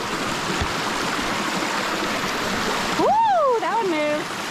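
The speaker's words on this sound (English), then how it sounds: "Crossing the raging river." A raging river rushes loudly and steadily at a trail crossing on the Appalachian Trail in Georgia. After a few seconds, high whooping vocal cries ring out over the roar.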